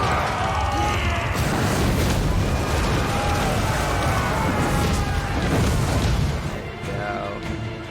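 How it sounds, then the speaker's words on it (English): Cannon fire and explosions in the video game Total War Warhammer 3, a dense, loud, continuous battle roar of booms and crashes mixed with shouting voices. "The cannons are destroyed, yet Skolden's army still attacks the beacon"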